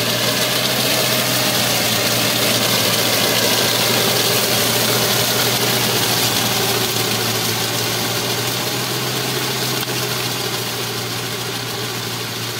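A New Holland Simba 30 HP tractor runs steadily in second gear under low load while digging furrows, its mid-pitched engine drone close and continuous with a vibrating rumble throughout.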